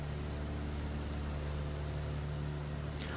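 A 1937 de Havilland DH.90 Dragonfly biplane drones steadily in flight, a constant loud cabin hum of engines and airflow with a low steady tone and no break throughout.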